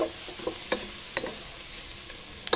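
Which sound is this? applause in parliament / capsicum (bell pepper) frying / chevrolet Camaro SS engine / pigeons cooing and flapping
capsicum (bell pepper) frying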